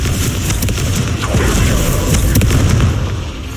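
Confringo fire spell blasting in the wizarding game Hogwarts Legacy, a loud heavy booming explosion with crackling pops and a rumble that holds and then eases.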